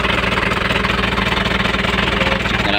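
An Isuzu 4JB1TC diesel engine that is hard to start and keeps stalling idles roughly nearby, a loud, continuous low rumble with an uneven pulsing beat and no voices.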